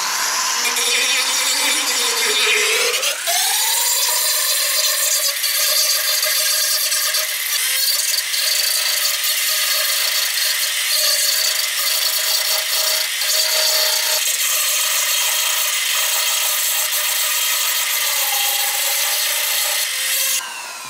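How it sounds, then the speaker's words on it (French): A wooden bowl spins on a lathe while coarse 60-grit sandpaper is pressed against it, giving a loud, steady motor whine with a continuous abrasive rubbing hiss that shifts in pitch near the start and runs without talk. "Pendant que je suis dans le sablage avec du grain grossier, du 60, je vais immédiatement enlever le restant d'écorce qui dépasse."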